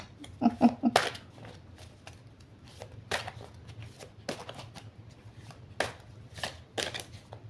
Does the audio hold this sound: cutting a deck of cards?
yes